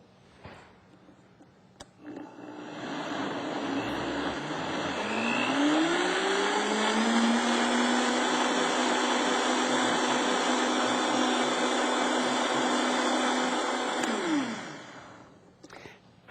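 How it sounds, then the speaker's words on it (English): A blender purees chiles for salsa ranchera, its motor spinning up with a rising pitch into a loud, steady whir that holds for several seconds, then winds down and cuts off. "so I'm just going to add it to the blender."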